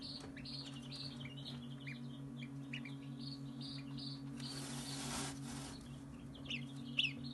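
Small high chirps from newly hatched goslings, faint and scattered, over a steady low machine hum, likely an incubator, with a brief louder peep near the end.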